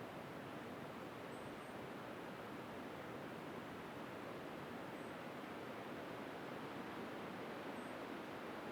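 Pacific Ocean surf at Gold Bluffs Beach in the Redwood Coast area, a faint, steady broadband wash of waves with no distinct individual breakers, heard from a distance and without voices.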